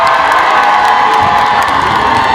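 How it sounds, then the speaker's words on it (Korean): A large festival crowd at the opening ceremony of the 2026 East Asia Culture City event in Andong cheers and shouts loudly and continuously, a dense roar of voices filling the whole stretch. "뭐 함성 지를 거면 제대로 한번 시원하게 지르세요"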